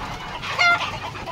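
Chickens clucking on a desi poultry farm with Sonali hens and a few ducks kept among them, a short close cluck rising over steady background bird noise.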